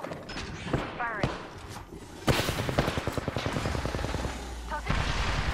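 Overwatch gameplay gunfire breaks into a loud, fast rhythmic burst of rapid automatic shots after a quieter stretch with a voice speaking.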